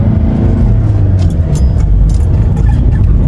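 A Fiat Doblo climbs a hill on streets in Keçiören, its engine a loud, close, steady low rumble throughout with no talk.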